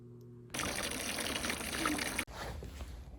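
Water gushes from a hose or tap into a horse's bucket in a stable, a loud, steady splashing pour that breaks off briefly and then resumes, close up and without talk.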